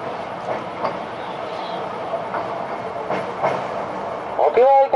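A small train on the Oigawa Railway Ikawa Line pulls into Okuoikojo station, steady interior rumble with soft wheel clicks, then squealing brakes as it slows to a stop near the end.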